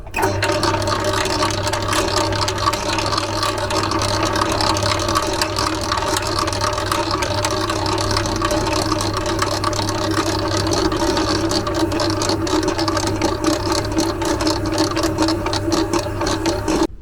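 An electric mixer kneads bread dough with milk for sweet pull-apart bread, giving a loud, steady whirring drone with a low motor hum and a faint rattling texture that continues unbroken throughout.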